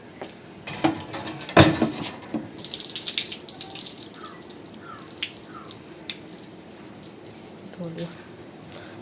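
Curry leaves rinsed under a running tap, water splashing and trickling with a sharp knock near the start, while a voice speaks over the flow.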